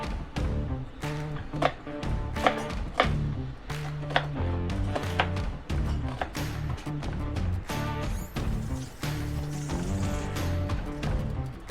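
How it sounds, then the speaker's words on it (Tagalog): Onions being cut with a knife, probably on a board, for balbacua: a quick run of sharp, regular chopping taps, fairly close and loud, continuing throughout with no talking. "Gaya tayo ng sibuyas."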